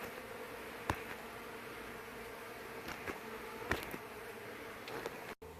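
Honeybees being moved into a top bar hive hum in a steady, low buzzing drone, with a few sharp clicks and knocks breaking through near the hive.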